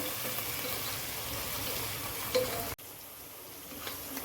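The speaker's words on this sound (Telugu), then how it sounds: "ఇప్పుడు రొయ్యలు కూడా వేసి రొయ్యలు నీసు వాసన పోయేంత వరకు కూడా కొద్దిగా వేయించుకుందామండి" A steady, soft sizzle of raw prawns frying in a pan, with faint stirring noises and a brief clatter partway through.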